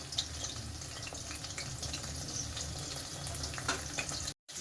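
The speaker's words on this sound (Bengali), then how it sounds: "এক পাশ ভালো করে ভাজা হয়ে গেলে মাংসটাকে উল্টে ভালো করে ভেজে নিতে হবে" Chicken fries in a pan over a medium-low gas flame for honey garlic chicken, a continuous even sizzle with scattered small crackles and pops, no voices, ending in a moment of silence.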